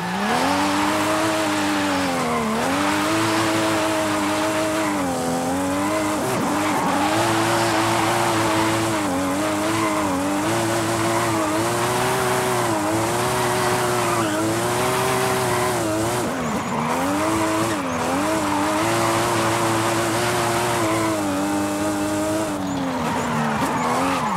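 A tuned, high-powered car drifts in the Forza Horizon 5 racing game, its engine howling with rising and falling revs beneath a constant loud tire squeal that runs unbroken throughout.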